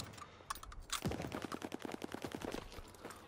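Rapid automatic gunfire in Call of Duty: Vanguard rattles out in a quick, even string of shots, fairly close but at low volume, lasting a couple of seconds.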